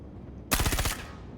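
A ship's weapon fires in Star Citizen, a single rapid burst of about six punchy shots in quick succession that cuts off abruptly, loud and close against a low ambient hum.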